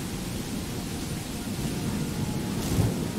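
Steady rain with a low rumble of thunder outside Whiterun in the video game Skyrim, a continuous wash of noise that swells slightly toward the end.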